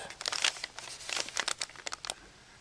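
Material being cut by hand for a homemade Boeing 737 landing gear lever: close, crisp crinkling and snipping bursts in quick irregular runs, with no talking.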